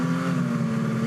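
Porsche GT race car at the Red Bull Ring during a GT Masters race, its engine a steady, loud, close drone held through the whole moment without any talk.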